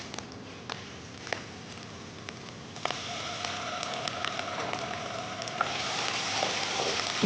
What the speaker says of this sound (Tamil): இஞ்சி பூண்டு பேஸ்ட் போட போகிறோம்.